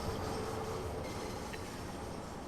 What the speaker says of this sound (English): It's one of the older stock of underground trains that still run on the underground on this Bakerloo line.